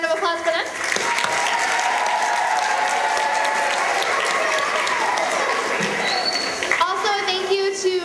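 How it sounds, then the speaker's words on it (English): Loud, sustained applause from a school audience at an evening program, steady clapping and cheering filling the room for several seconds before fading out. "One more round of applause for them."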